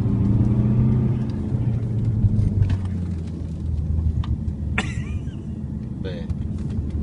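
An Alfa Romeo 159 SW TI engine runs with a steady low rumble that swells as it accelerates, heard from inside the car beneath people talking.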